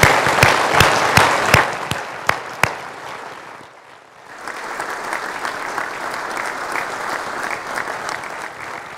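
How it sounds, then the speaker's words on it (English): Audience applause at a spring music festival: loud, dense clapping with a few sharp claps, easing briefly around the fourth second, then continuing steadily at a softer level. "Would you just give one collective applause for all of that crowd and all that they do?"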